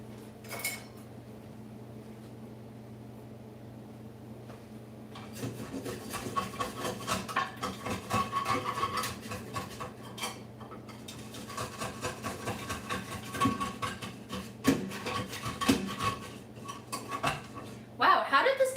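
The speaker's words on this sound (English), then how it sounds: "I'm like fucking up mom's spoon now. Using it as a scrape." A spoon scrapes burnt food from the bottom of a pot in repeated rough metallic strokes, starting after a quiet lull and continuing steadily, with someone talking over it.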